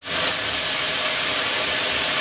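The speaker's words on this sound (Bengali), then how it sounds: "মাছ ভাজা প্রায় শেষ।" Fish frying in a pan while cooking with taro stems, a steady, close, dense hiss of sizzling oil that holds evenly throughout without pause.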